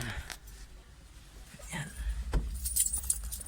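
Car keys jangle near a Mitsubishi Lancer ignition, a light close metallic rattle in short bursts over a low background hum, with no talk.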